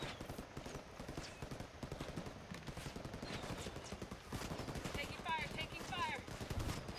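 Enemies fire guns in the Ghost Recon Wildlands video game, with rapid bursts of shots crackling over a busy, layered soundscape and a voice speaking at times.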